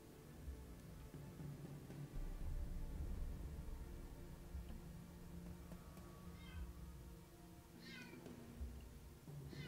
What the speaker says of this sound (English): My cat wants to join us streaming as well.